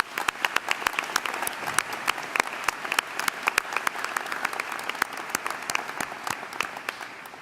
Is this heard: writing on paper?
no